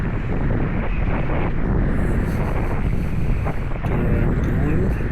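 Wind roars and buffets the microphone during flatwater surfing, a loud, steady, rushing noise that carries on without a break.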